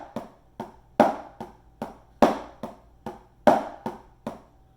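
A series of sharp percussive strokes in a steady pulse, with every third hit louder and accented, played alone with no talking.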